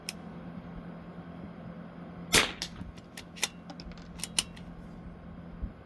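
Rimfire rifle shots ring out during a PRS rimfire course of fire, one sharp crack followed by several lighter clicks and snaps of the action, against a steady low hum, fairly quiet and with no talking.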